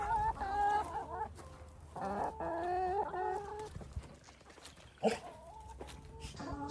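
Chickens cluck and murmur close by in a run of warbling calls with short pauses and a sharper squawk near the end, over a quiet background.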